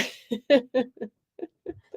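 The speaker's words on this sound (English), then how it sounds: "How about a sneeze, please?" A short, sharp sneeze opens the clip, followed by a string of quiet, breathy little sounds that trail off.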